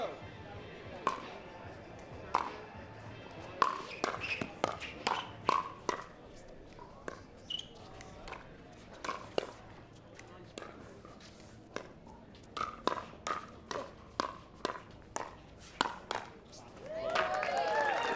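Quick, sharp pickleball paddle pops ring out in fast bursts during a pro match at Pickleball Night in America in Beer City, with a cheering crowd and commentary underneath.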